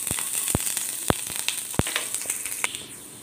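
Garlic dropped into three tablespoons of hot oil in a pan for Schezwan fried rice, crackling and spitting in a busy close sizzle with sharp pops that gradually thin out.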